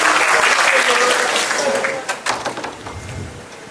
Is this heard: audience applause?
yes